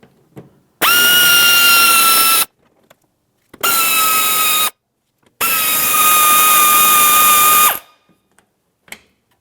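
Power drill on a 2009-2019 Ford Flex backing out 5.5mm bumper cover screws in the inner fender well: three loud, steady whining bursts of about one to two seconds each, separated by short pauses.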